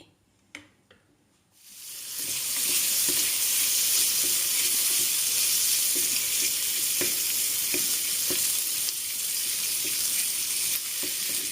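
Chicken skin with a splash of water drops into a hot pan after a few quiet clicks and bursts into loud, sustained frying, a dense close sizzle with occasional stirring knocks and no voices.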